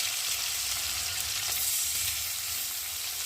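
Small pieces of a large fish frying in oil for a spicy fish curry, a continuous bright sizzling hiss with a low rumble beneath, steady and unbroken, no speech over it.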